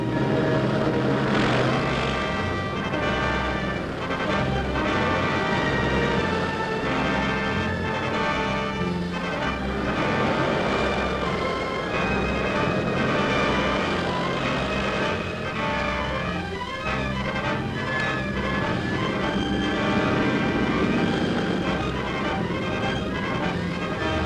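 Military aircraft squadrons, long-range planes fitted with auxiliary fuel tanks, fly out toward the Western European air front during wartime, their engines a loud, steady, continuous drone with a dense rumbling roar and no speech.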